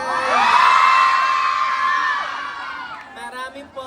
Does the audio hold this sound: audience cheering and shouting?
yes